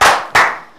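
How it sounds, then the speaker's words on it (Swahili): Two quick bursts of clapping from an audience at an AMG Realtors gathering, each sharp onset fading away, loud and close, with no voices. "tumahuri na makofi"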